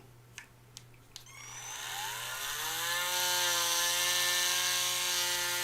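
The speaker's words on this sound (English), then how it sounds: "Trying real hard not to drill a freaking hole in my finger." A power drill starts after a few sharp taps, its motor whine rising steeply and then holding a loud, steady high-pitched drone close by.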